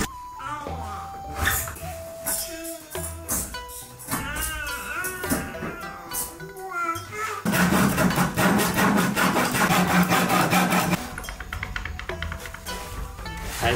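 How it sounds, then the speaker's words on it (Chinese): A hand saw cuts into a wooden door in an old rented house under renovation, with quick, rasping back-and-forth strokes close by in the second half, after a stretch of voices talking. "用这个锯子把这里锯掉一点"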